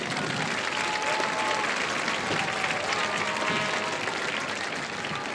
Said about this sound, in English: Let's have another round of applause for the Guyer High School Marching Band.